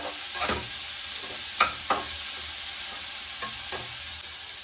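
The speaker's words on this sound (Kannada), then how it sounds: "ಇವಾಗ ನಾನು ಒಗ್ಗರಣೆ ರೆಡಿ ಮಾಡ್ಕೊತಾ ಇದ್ದೀನಿ" Cumin and onion temper in hot oil with a bright, steady sizzle. Several distinct stirring strokes scrape through it at close range.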